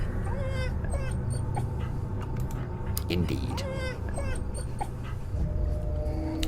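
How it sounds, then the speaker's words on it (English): In the game Fears to Fathom: Carson House, a dog whimpers and yips in short, high, wavering cries over low background noise, while someone talks briefly. "Hello, doggy!"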